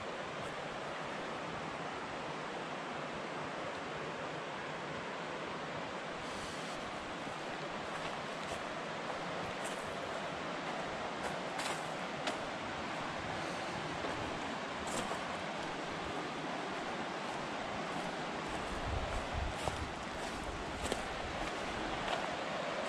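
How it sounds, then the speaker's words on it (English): A river in the Kern River area flowing in late afternoon, heard as a steady, broad rush of water that continues throughout with no voices. "Late afternoon on the river."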